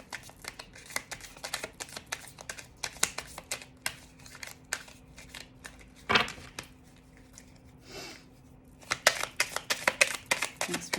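Tarot cards are shuffled by hand in a quiet room, a long run of soft crisp riffles and taps in irregular bursts, fairly faint, with a few louder knocks and flutters near the end.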